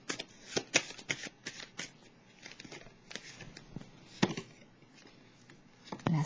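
Tarot cards handled and drawn from a deck, a run of soft close riffles, flicks and slaps in irregular bursts with no talking.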